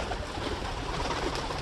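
Pigeons coo softly among the flock in a bird loft, their calls mixed into dense, steady background noise.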